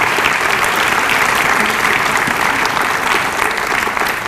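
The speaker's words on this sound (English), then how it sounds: "I'd like to give them a round of applause one more time for their topics" Dense, steady audience applause after student essay readings at a presentation, many hands clapping together loudly and evenly throughout with no voices standing out.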